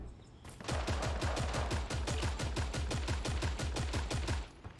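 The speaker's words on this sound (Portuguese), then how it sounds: "Ainda bem que tá tomando tiro de outro agora." Rapid automatic gunfire from the video game Creative Destruction, a dense, loud, steady stream of shots lasting several seconds with no talk over it.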